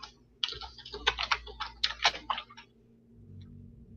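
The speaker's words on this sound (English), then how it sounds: "Making sure I'm typing everything in all right." Quick typing on a computer keyboard, a dense run of crisp key clicks close up for about two seconds before it stops, leaving a quiet room.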